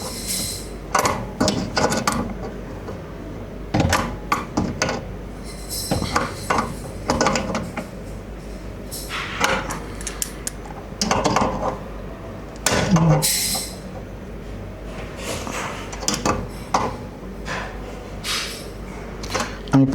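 A gas nozzle fitting is tightened on a gas deck pizza oven, producing repeated close metallic ratcheting clicks and scraping clanks in irregular bursts, with occasional faint speech.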